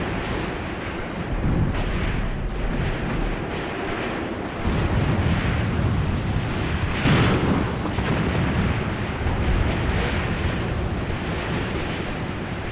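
A WW2 desert battle in a video game with Afrika Korps forces, a dense continuous rumble of artillery and gunfire, heavy booms blending into a sustained roar, loud and unbroken, with no voices.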